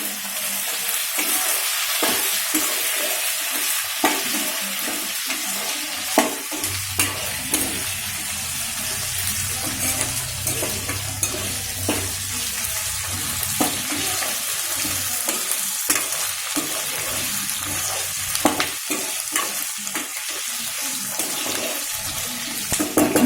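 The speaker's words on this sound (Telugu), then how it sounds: "బాగా వేగనిద్దాం." Green chillies, okra, brinjal and ivy gourd fry in a village-style pan, a steady close sizzle with frequent stirring scrapes and clatters throughout.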